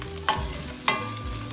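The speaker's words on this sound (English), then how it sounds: "I'm stirring like this, that way it doesn't get stuck over here." A spoon scrapes through spices frying in a pan for paneer tikka masala, two sharp scraping strokes over a low sizzle, close and distinct, with no talking.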